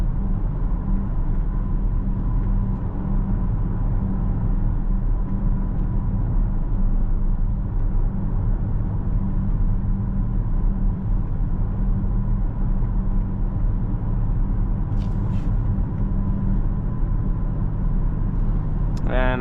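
A BMW XM Label, a 738 hp 2024 plug-in hybrid SUV, driving on the road, heard as a steady low engine and road rumble from inside the cabin that holds constant throughout with no talking.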